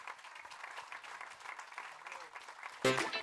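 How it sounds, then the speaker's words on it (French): Audience applauding in a radio studio, modest scattered clapping at a fairly low level throughout, ending in a louder sudden burst near the close. "on peut l'applaudir très très très fort"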